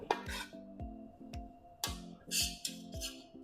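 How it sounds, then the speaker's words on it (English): Veggie lo mein with chives and celery being tossed gently in a pan, giving a run of soft utensil clinks and scrapes against the cookware at a steady, unhurried pace, close and moderately quiet. "now we're just going to mix this up gently"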